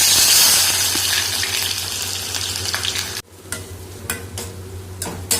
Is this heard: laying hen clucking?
no